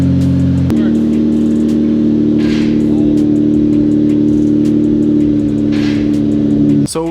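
A Toyota Supra MK4 holds a loud, steady engine drone while its wheel spins, the revs nearly constant and close, with a mechanical clank near the end.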